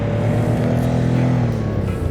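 A car's engine in the driving game City Car Driving drones steadily at high revs during a taxi run, a loud continuous hum with a constant pitch and no talk over it.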